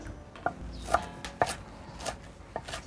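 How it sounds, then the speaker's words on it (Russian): Knife chopping pickled cucumbers, parsley, dill and garlic on a board, about six crisp separate strikes spaced roughly half a second apart, close and clear with no talking. "Просто немного нарежу, чтобы блендеру было удобнее справляться."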